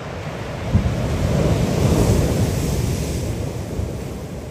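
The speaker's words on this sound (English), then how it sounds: "And the tide is coming in." Ocean surf rolling onto a Vancouver Island beach as the tide comes in, heard from driftwood about 8 feet above the sand: a steady, broad wash of breaking waves with some wind noise, swelling slightly mid-clip, no voices.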